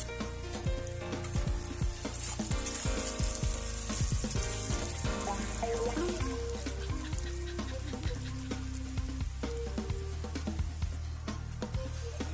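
Onions frying with salt in a pan give a close, steady crackling sizzle with irregular pops and spatters, and a few stirring scrapes run alongside for the whole stretch without talk.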